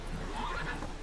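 Roach, a horse in The Witcher video game, gives a short whinny over a steady wash of in-game ambience, brief and fairly close with no one talking.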